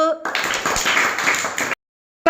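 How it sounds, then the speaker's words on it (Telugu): A classroom of young children clapping together in a burst of rapid applause lasting under two seconds, close and loud, then sudden silence. "క్లాప్స్"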